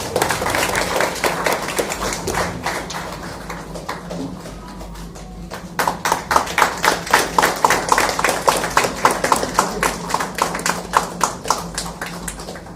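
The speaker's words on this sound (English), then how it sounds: "Can we all please give a big round of applause?" Audience applause at a hospital ENT department inauguration: a room full of people clapping, loud and dense at first, thinning and then picking up again into a rapid, rhythmic clapping close by.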